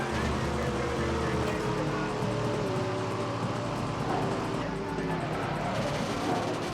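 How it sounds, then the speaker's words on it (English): A car engine in the street-racing game Midnight Club 3 drones steadily at moderate volume, with the pitch shifting as it revs, under a continuous wash of road and game noise while someone talks over it. "the noise the car makes when it's doing well."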